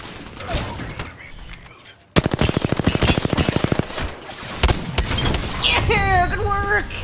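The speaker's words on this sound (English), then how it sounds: "Taking fire." Apex Legends gunfire: a rapid burst of automatic shots rattles out close and loud, followed by more weapon sounds and game effects, with a voice speaking over parts of it.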